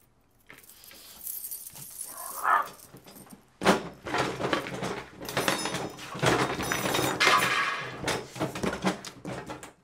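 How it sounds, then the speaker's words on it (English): Dog barking repeatedly at close range in a burst of loud, jumbled barks and noise, with keys or metal jangling near the start and no speech. "Another dog again."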